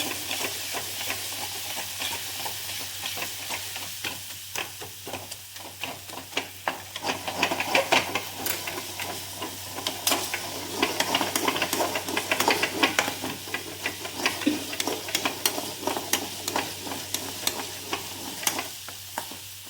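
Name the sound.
sautéing toor dal and moong dal in oil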